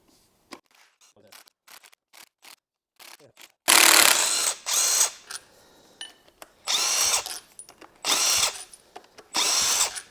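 A smaller Makita impact wrench zips a bolt off a Porsche 996 M96 engine during a teardown, firing in several loud, sharp rattling bursts of about a second each, close by after a stretch of quiet clicks and handling.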